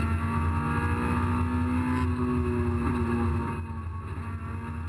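Racing car engines during a race at Cadwell Park, a narrow circuit, with a Lotus Elise and a BMW alongside: a loud, sustained in-car engine drone with steady tonal whine, easing slightly after a few seconds.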